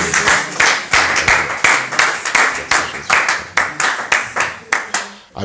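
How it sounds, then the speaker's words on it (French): A congregation at a televised church service claps in a steady rhythmic beat, about three claps per second, sharp and close, with voices faintly mixed in. "Nous te rendons action de grâce et nous applaudissons."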